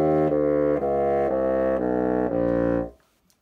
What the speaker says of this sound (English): So if I play the lowest fifth,